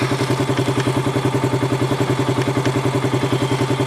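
A Polaris engine runs steadily at about 1250 RPM, a loud, close, even low-pitched chugging pulse with faint clatter on top and no voices.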